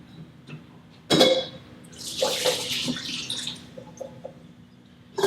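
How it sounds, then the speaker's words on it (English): Water is poured from a tap into a pot in a kitchen while making stove-top lasagna rolls, a sudden splash followed by a few seconds of running, gurgling flow that trails off. "Let's get a little water inside there."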